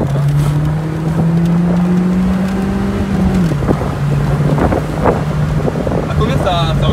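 BMW Z3 1.9 roadster driving: steady engine drone that rises slightly in pitch then drops as the car shifts, with heavy wind buffeting over the open cockpit and faint voices.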